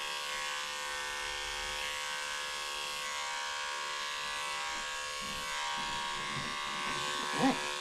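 Electric clippers shaving a dog's fur during grooming give a steady, fairly quiet electric buzz that runs throughout, with faint handling noise toward the end.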